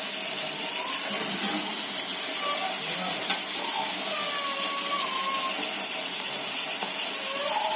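Food frying in hot oil until golden brown makes a continuous, even hiss that stays at steady loudness throughout.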